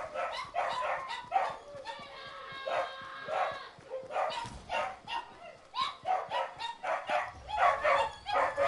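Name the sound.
dog barking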